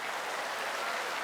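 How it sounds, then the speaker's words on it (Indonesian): Steady applause from a studio audience at a talk show, a dense even wash of clapping that fills the short moment at a fairly loud level. "Tepuk tangan."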